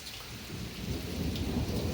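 A thunderstorm sends dense rain hissing down while a low rumble of thunder builds and swells, loud and close, with no one talking.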